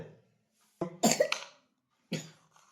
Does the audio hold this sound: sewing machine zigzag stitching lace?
no